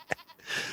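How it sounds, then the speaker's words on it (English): A small herd of ten or twelve baby goats bleat nearby, one short high cry followed by a longer wavering bleat rising over farmyard noise. "Nothing like having about 10 or 12 baby goats all in the same area and just watch them go"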